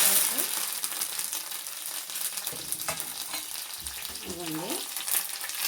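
Curry leaves crackle and sizzle in hot tempering oil, a dense continuous frying hiss with scattered spluttering pops and the occasional scrape of a utensil stirring the pan.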